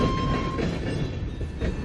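A runaway tram speeds along rails, giving a dense, continuous rumbling roar with a faint steady whine over it, loud and unbroken for the whole moment.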